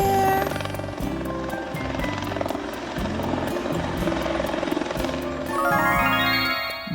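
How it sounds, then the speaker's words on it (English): A helicopter flies overhead with a loud, steady rotor chop and engine drone that holds throughout, joined near the end by a rising tonal whine, with no talk. "This helicopter is flying."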